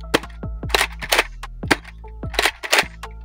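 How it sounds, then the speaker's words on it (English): Nerf N-Series Infinite toy blaster firing repeatedly, several sharp snapping shots with whirring mechanism sounds between them in an irregular rhythm, loud and close with no talk. "it's now time for the firing demo with Nerf NSeries Infinite"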